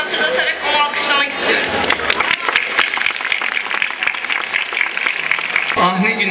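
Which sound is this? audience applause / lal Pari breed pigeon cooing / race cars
audience applause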